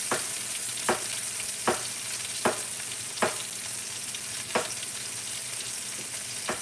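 Chicken sizzles steadily in a pan for grilled chicken lavash wraps, a constant hiss broken by sharp scraping clicks of stirring about once a second.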